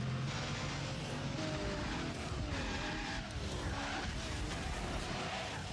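In the racing video game Project Gotham Racing 2, an Enzo Ferrari engine roars continuously while tires squeal and skid in wavering screeches.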